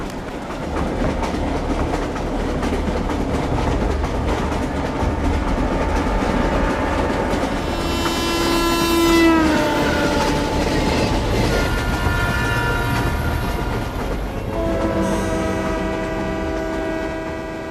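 A train rolls steadily along the rails with a continuous rumble and clatter, and tonal horn or whistle-like notes rise midway and again near the end, loud and sustained throughout.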